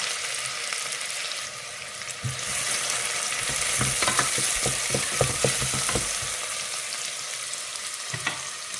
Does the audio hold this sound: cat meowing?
no